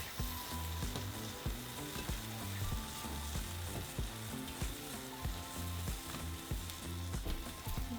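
Tomatoes and serrano chiles cooking in a pan for rajas con queso tamales, a steady quiet sizzle with occasional scraping and stirring knocks, no talk.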